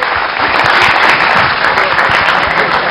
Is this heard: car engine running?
no